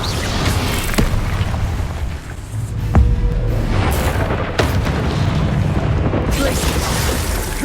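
In Hogwarts Legacy, an Incendio fire spell erupts in a dense roaring burst of game noise, with heavy booming thuds and crackling bursts layered over a constant rumble.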